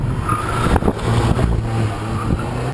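A turbocharged car's engine pulls hard under acceleration, a loud, close, sustained drone with rising pitch and a brief dip partway through, filling the whole moment without speech.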